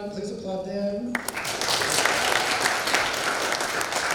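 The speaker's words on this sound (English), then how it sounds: "Please applaud them." An audience at a program project showcase breaks into applause for community partners, the clapping surging in abruptly after a brief spoken phrase and continuing thick and steady to the end.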